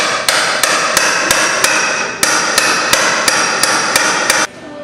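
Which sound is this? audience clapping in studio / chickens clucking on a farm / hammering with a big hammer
hammering with a big hammer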